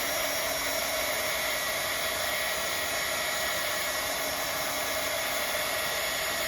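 A hair dryer blows steadily on a Bible journal page to dry wet ink, a constant close whooshing hum that runs alone without talk.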